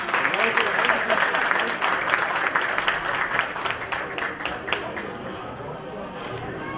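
A steady, full round of crowd applause at the Sakarya 2023 sports awards ceremony as Turkish tennis champion Sami Onur Keleş and his coach are invited up, with voices faintly mixed in throughout.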